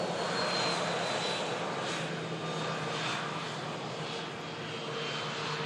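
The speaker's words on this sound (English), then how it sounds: "Final few miles down onto runway 23 right for this heavy." Heavy jet airliner on final approach to runway 23 right, a steady, broad engine roar holding constant and fairly loud throughout, with no voices.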